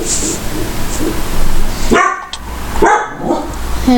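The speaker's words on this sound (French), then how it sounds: "J'adore les chiens, comme vous pouvez l'entendre." Several dogs barking in sharp bursts, two loud clusters close by, with a busy, noisy background between them.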